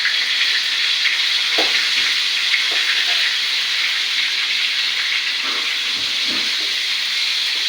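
Chopped tomatoes fry in a pan, giving a constant soft hiss and sizzle, close and even, with a few light scrapes and taps as they are turned.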